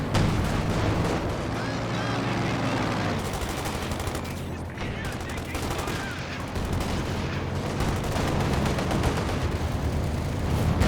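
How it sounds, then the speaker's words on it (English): Mortar barrage in the real-time strategy game Company of Heroes 2: continuous booming impacts and crackling small-arms fire layered into a dense battle din, with a commentator talking over it. "It's getting barraged by the mortar team."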